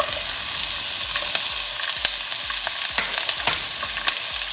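Chopped onions sizzle and fry in a pan with a little oil, a steady crackling hiss broken by scattered pops and spoon scrapes, close and alone without talk.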